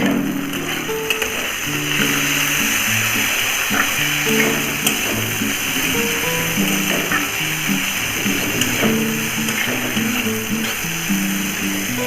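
Yard-long beans fry in oil in a pan for a mashed bean dish, a continuous close sizzle with faint stirring scrapes, under steady tonal background sounds.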